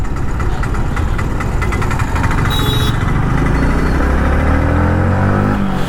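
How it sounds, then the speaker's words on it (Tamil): A vehicle passing on the road during a solo motorbike ride near Chavakadu beach, Kerala: constant loud engine rumble and wind roar, with another engine's pitch rising and shifting as it goes by close. "இடையில ஏதோ வண்டி வருது."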